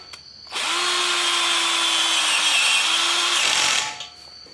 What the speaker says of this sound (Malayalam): അങ്ങനെ നമ്മൾ നാല് സൈഡും സ്ക്രൂ ചെയ്ത് കഴിഞ്ഞു